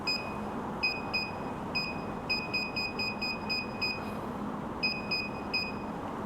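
Lutron VC-9210SD digital vacuum gauge giving short electronic beeps as its buttons are pressed during setup, a series of clipped tones in irregular single and double groups over faint steady background hiss.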